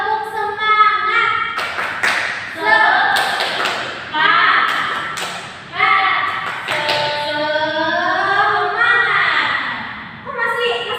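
A school class claps out a rhythmic group chant together, sharp synchronized claps and thumps in repeated bursts mixed with children's chanting voices and a teacher speaking.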